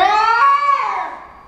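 A drawn-out, wailing yowl from one of two cats, loud and close, its pitch sliding up then falling away as it fades.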